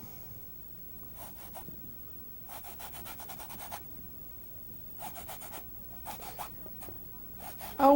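Turpentine-soaked rag rubbed over a painted canvas during a portrait painting demonstration, giving soft repeated scrubbing strokes in short bursts with pauses between, fairly quiet and close.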